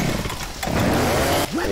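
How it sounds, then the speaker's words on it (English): A chainsaw running in the video game Left 4 Dead, its engine droning loud and close, dipping briefly and then revving again with a rising whine near the end. "She's got the chainsaw"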